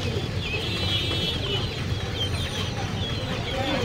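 Chickens cluck and squawk continuously at a Kolkata poultry market, several birds close together in a busy, steady chatter.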